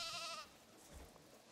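A Dall sheep in the Planet Zoo video game gives one short, bright bleat at the very start, followed by quiet ambient background.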